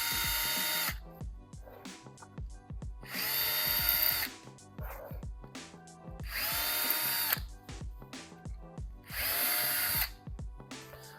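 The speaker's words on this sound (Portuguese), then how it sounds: "vamos começar furando a madeira" Power drill boring into wood for small furniture feet on a recycled PET-bottle pouf, three loud bursts of whining drilling separated by quieter gaps with clicks and handling.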